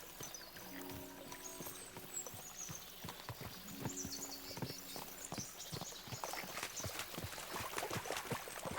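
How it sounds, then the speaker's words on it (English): Horses galloping in the video game Kingdom Come: Deliverance 2, a rhythmic run of hoofbeats moderately close, with a faint water or stream wash underneath and no talking. "we'll give the horses a gallop again"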